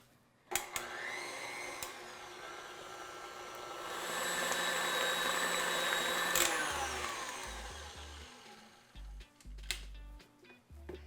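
An electric mixer beating cake batter whirs steadily, swelling louder for several seconds as the speed rises to medium, before winding down, with a few clicks and knocks around it.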